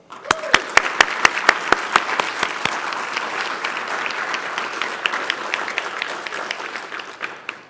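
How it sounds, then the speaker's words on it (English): An audience at an ROTC commissioning ceremony applauds. The opening claps sound sharp and separate, then merge into a dense, sustained round of clapping that slowly thins out toward the end. "Please join me in a round of applause."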